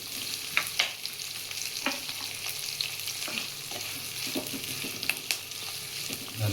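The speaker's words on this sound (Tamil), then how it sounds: "போட்டு வதக்குறோம்" Ingredients for homemade curd rice are sautéed in a pan, with a continuous soft sizzle of frying under repeated scraping taps of a spoon stirring, close and steady, no voices.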